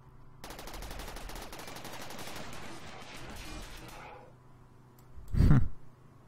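Turrets in the video game RimWorld fire a rapid, dense burst of automatic gunfire that fades out after a few seconds, followed by a single louder, heavier boom.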